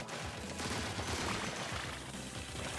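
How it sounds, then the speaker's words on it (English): Fireworks in the video game Splatoon 3 crackle and pop in a dense, continuous fusillade of rapid bursts, loud and close for the whole moment. "Sounds like fireworks."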